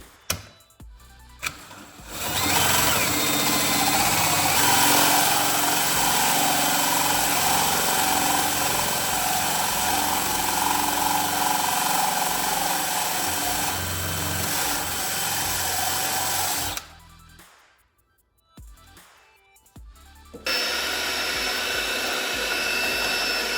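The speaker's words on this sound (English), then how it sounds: "I'm just adding more holes. I mean, I can, whatever, drill holes now," A power drill bores holes in wood, giving a loud, close, sustained whine for about fifteen seconds. A few quieter knocks and pauses follow, then a shorter, steadier run of the motor.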